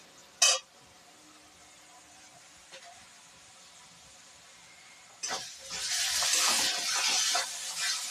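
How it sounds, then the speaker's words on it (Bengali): Ground ginger, garlic and green chili paste hits a pan of browned onions, starting as a sudden loud sizzle partway through after a quiet stretch with a single knock, then hissing steadily until the end. "আদা রসুন কাঁচা লঙ্কা দিয়ে এটাও একটু লাল লাল করে ভাজবো।"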